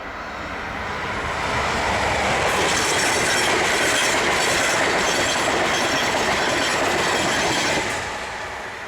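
A northbound train passing through Perryville, Maryland, a loud, steady roar of wheels and rolling cars that swells in, holds for several seconds at close range and begins to ease off at the end, with no horn.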